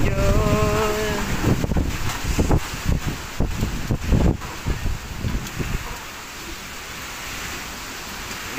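Strong typhoon Opong wind buffets and shakes a house, a loud broadband roar with repeated rattling thumps and gusts through the first six seconds, easing to a steadier whooshing rush afterward.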